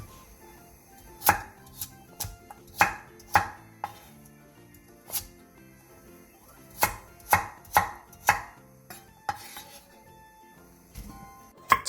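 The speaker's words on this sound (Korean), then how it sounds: "당근 2분의 1개도 감자와 비슷한 크기로 잘라주세요." A knife chopping potatoes and carrot on a cutting board, crisp individual thuds spaced irregularly, sometimes in quick pairs or triplets, close and clear with no talking.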